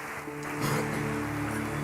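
A church congregation applauds during an evening session of an honor congress, a steady broadband wash of clapping with sustained musical tones underneath, rising slightly after the first moments.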